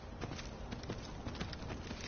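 Horse hooves clip-clop at a steady walking pace in the Skyrim Dawnguard video game, a quiet, even series of soft beats with no talking.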